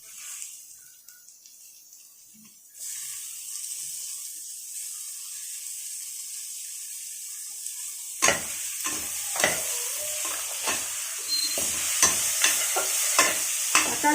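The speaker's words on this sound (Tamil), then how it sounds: "தக்காளி போட்டு நல்லா மிக்ஸ் பண்ணிவிட்டு" Chopped tomatoes stirred and fried in a pan for prawn biryani, quiet at first, then a sudden loud sizzle as they go in, followed by repeated spatula scrapes over the continuous frying, close up.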